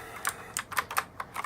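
Keys clatter on a Rottay 104-key RGB mechanical keyboard, about eight crisp, close clicks in quick, slightly uneven succession over a faint steady background hiss.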